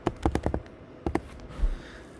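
Quick keystrokes on a computer keyboard come in two short bursts of crisp taps, close and fairly quiet, with a soft thump and near silence between them.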